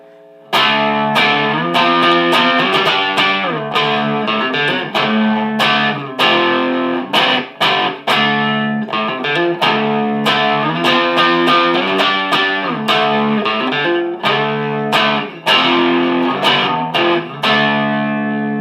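A loud, distorted electric guitar, a vintage Hagstrom II, plays a repeating riff of chords with sharp picked attacks and brief gaps between phrases; the distortion is somewhat thin.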